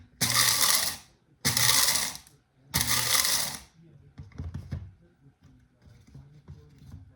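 An electric grinder pulses black peppercorns in three loud, roughly one-second bursts separated by short pauses, followed by softer rattling and tapping of the cracked seeds.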